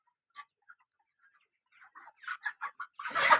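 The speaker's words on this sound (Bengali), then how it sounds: "এটা কিন্তু মোরগ, এর সাইজটা দেখো কেমন গজরাচ্ছে" A large rooster grumbles while being caught, starting with sparse, faint clucks that grow into a rapid run of louder clucks and end in a loud squawking burst.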